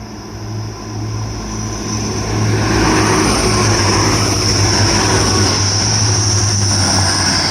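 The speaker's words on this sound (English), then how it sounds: "Passing through now will be a Grand Central Adelante working a service from London King's Cross to Sunderland" A Grand Central Adelante train passes through Doncaster station on the East Coast Main Line, a loud, steady roar and rumble that swells after the first couple of seconds and holds for the rest of the pass.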